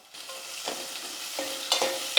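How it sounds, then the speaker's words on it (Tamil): Chopped onion and curry leaves sauté in a pan, with a close sizzle broken by several scraping stirs and a sharp clink near the end. "ஒரு பெரிய வெங்காயம் வந்து கட் பண்ணி வச்சுக்கிறேன் அதை சேர்த்துக்கிறேன் கொஞ்சம் கருவேப்பிலை இதெல்லாம் நல்லா வதங்கட்டும்"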